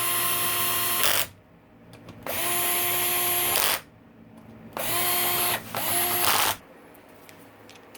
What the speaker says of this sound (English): I'll tighten them down with the cordless, with the drag set